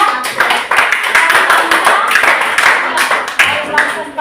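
An audience claps for a performing group at a university event, a dense burst of close handclaps that keeps going at an even level throughout.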